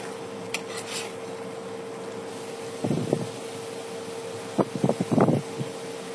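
Potatoes stirred with garlic and spices in a pan for a coconut chicken dish, heard as a few short scraping and clattering bursts of utensil against pan over a steady low background hum, with no talking.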